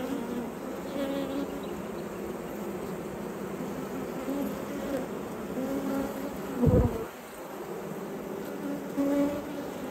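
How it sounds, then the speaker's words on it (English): Bees buzzing at an open hive, a soft, steady hum of many insects with a brief thump partway through, faint and close. "These bees aren't too bad, are they?"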